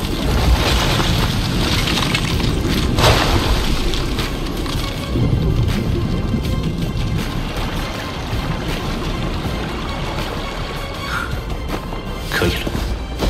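In the Soul Land 2 animation, a hail spell detonates with sustained, dense crashing and shattering, like breaking ice or glass, loud and close throughout.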